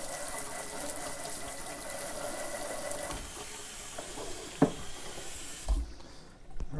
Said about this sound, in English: water shot at you from everywhere